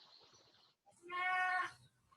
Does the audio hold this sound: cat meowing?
yes